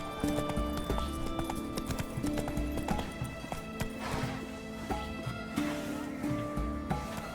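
Roach, a horse in the video game The Witcher 3, trots with steady clip-clop hoofbeats close up, joined by game music and background sounds, while a voice speaks over it now and then.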